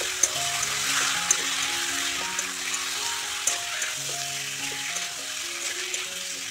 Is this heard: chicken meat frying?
yes